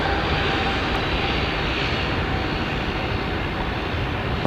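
An airliner rolls heavily along the runway at Sydney Airport, a loud, steady engine roar filling the whole stretch without letting up.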